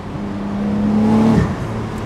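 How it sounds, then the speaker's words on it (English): A 2020 Porsche 911 Carrera 4S turbocharged engine roars under acceleration with a rising turbo whine that holds then drops sharply, followed by a brief whooshing blow-off release, loud and close. "Just listen to those turbos spool up."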